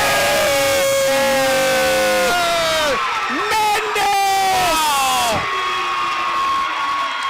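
Girls' high school basketball crowd roaring and whooping after a last-second game-winning shot, loud sustained cheering and yelling as fans storm the court, with excited voices shouting over it.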